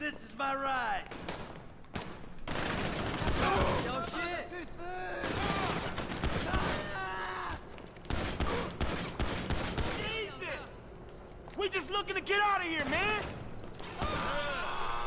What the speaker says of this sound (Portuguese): Tenho aqui uma metralhadora.